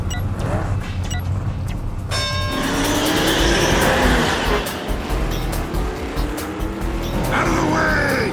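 Race cars revving and starting in an animated show, engines whining and roaring past with a tire squeal, alongside a voice and music-like effects.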